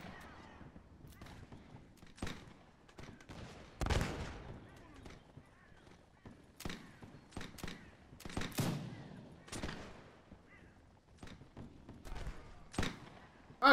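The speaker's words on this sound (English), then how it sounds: "Our cannon's even firing still." Cannon and musket volleys from a Napoleonic-era Mount & Blade battle, with irregular bursts of gunfire and heavier booming shots scattered across a noisy battlefield backdrop, some loud and close, others more distant.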